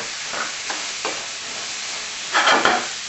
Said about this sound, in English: the heat starts to cook them up. And you can begin to get the smell of the vegetables starting to cook.